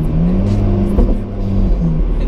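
Alfa Romeo 4C sports car engine revving close by, a loud rasping drone with rising and falling pitch sweeps and a sharp blip near the middle, no talk.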